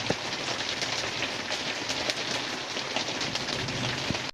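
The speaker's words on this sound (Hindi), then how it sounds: "क्योंकि बारिश बहुत तेज़ हो चुकी है देख सकते हैं" Heavy rain pouring down outdoors, a dense, steady hiss of drops drumming on surfaces, loud and continuous with occasional sharper splashes and no voices.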